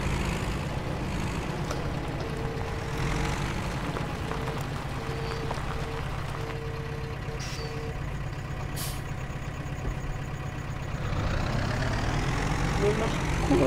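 A laboring tractor engine in the Landwirtschafts-Simulator 17 farming game, a steady low rumbling drone that holds loud and constant throughout, with faint tonal whines layered on top.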